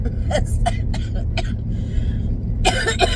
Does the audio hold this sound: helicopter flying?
no